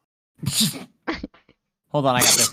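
One sharp sneeze bursts out close to the microphone and is followed by a few quick spoken words.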